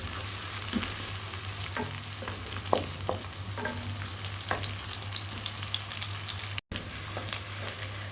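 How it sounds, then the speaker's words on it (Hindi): Onions frying in a pan while being cooked to a light brown for a gobi gosht curry, giving a steady close sizzle with occasional scraping stir strokes and a low hum beneath, no talking. "प्याज को हम कर लेंगे लाइट सा ब्राउन।"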